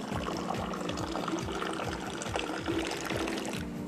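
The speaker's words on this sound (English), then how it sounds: "there is an art form as well to pour in Moroccan tea. The highest, the better." Moroccan mint tea poured from a height into a glass, a steady splashing stream with rhythmic gurgles, close and continuous throughout.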